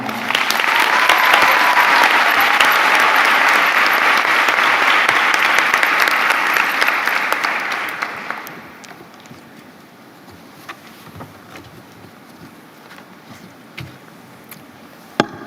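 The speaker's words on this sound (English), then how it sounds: "Give yourselves one more round of applause." Loud, dense applause from graduates, friends and family fills a nursing school white coat ceremony for about eight seconds, then fades quickly into quiet room tone with a few scattered late claps.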